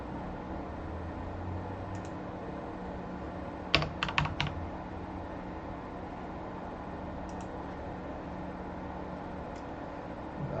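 A short burst of clicking keystrokes on a computer keyboard, a handful of quick taps in the middle of a steady hiss, with a couple of faint isolated clicks before and after.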